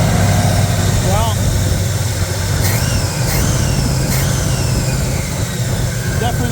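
A 1983 Chevrolet Camaro Z28 V8 idles steadily and close by, a continuous low rumble running throughout with a few faint higher chirps over it.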